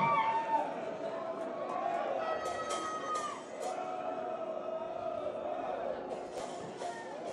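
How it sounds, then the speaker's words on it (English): Soccer stadium crowd at a North Carolina FC match against Greenville Triumph SC, a distant, steady murmur of fans with scattered shouts and whoops rising at moments, under a commentator talking. "Crowd starting to make some noise here"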